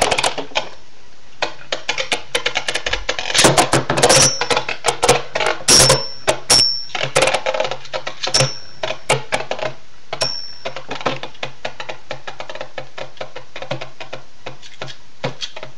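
Beyblade spinning tops clatter against each other in a stadium with rapid, irregular clicks and sharp metallic pings that are loud at first, then thin out as the battle slows.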